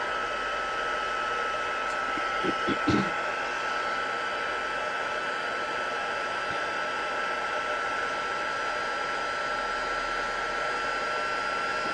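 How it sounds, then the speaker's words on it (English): A heat embossing tool set to its second setting blows hot air in a constant, fairly quiet hiss, with a couple of faint knocks early on. "Now I am going to get my heat tool, so it will be a little bit noisy."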